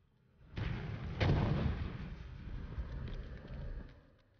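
Grenade blasts and gunfire in the Operation Raccoon City campaign shooter: a loud burst at about half a second, a heavier explosion just after one second, then a long rumbling tail with scattered shots and no voices.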